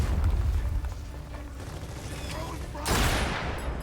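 Gears of War 4 gameplay with a sniper rifle: steady rumbling game noise is broken by one loud, sharp shot near the end, followed by a sustained echoing tail.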